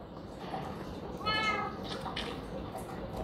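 A tamed cat in the Minecraft video game, glitched with a strange texture, lets out a single short meow over a faint background hum.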